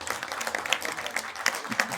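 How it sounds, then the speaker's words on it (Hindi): At an evening farewell ceremony for an SDM at a Sabalgarh garden venue, an audience claps faintly and briefly, scattered hand claps heard at a distance in a short burst. "मैं आपसे ही चाहूंगा कि एक बार जोरदार तालियां"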